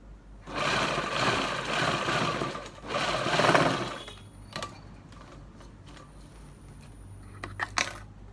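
A sewing machine stitches a palazzo pant seam in two close bursts of rapid whirring, followed by quieter clicks and handling noises.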